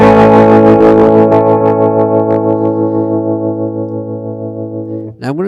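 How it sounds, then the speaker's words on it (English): An overdriven electric guitar through the Nembrini Double Reverb amp plugin plays a run of picked notes. The notes ring into a long, distorted sustain that slowly decays. Near the end there is a brief new pluck. "we should get a drive kind of a sound"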